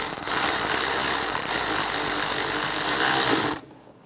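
A ratchet wrench clicks rapidly and steadily, close up, as a bracket bolt is tightened under the hood of a 1996-2002 Toyota 4Runner during a valve cover gasket job, then stops abruptly near the end.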